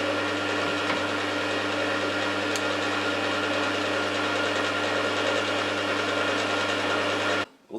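Mill head feeding down slowly under power, a steady mechanical whine with a low gear hum running evenly, then cutting off abruptly near the end.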